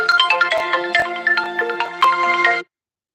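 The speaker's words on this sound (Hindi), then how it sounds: "अरे फोन और परेशान कर देता।" Phone ringtone, a loud bright melodic tune of repeated electronic notes playing alone for about two and a half seconds before stopping abruptly.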